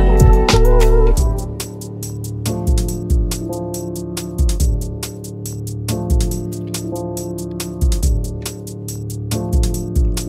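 A tune plays on a drum and bass podcast. Punchy electronic beats with deep bass come through steadily and loud, no voices.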